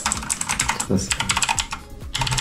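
Rapid keyboard typing, a dense run of clicky keystrokes close by, continuing steadily with brief pauses and faint background voice.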